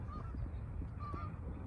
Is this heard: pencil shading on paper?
no